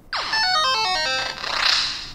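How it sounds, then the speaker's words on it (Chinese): An 8-bit style built-in ringtone plays from a MoonDrop MIAD01 music phone, a bright, loud burst of stepped electronic chiptune notes that sweep and warble for about two seconds with no talking. "那内建音效跟铃声也真的都是各种8bit 风格"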